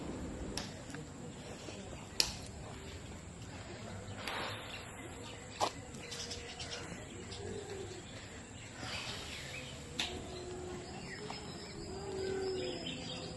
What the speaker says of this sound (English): walking through the massive enclosure filled with birds flying freely all around you